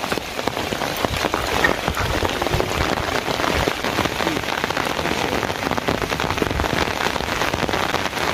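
Steady, dense rain falls close by, drumming on surfaces in a constant even hiss of many drops with no pause. No talk is heard.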